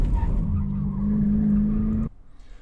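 A car braking hard on an autocross course at an SCCA event, a loud sustained engine and tire roar with a strong steady tone that cuts off abruptly after about two seconds, leaving near silence.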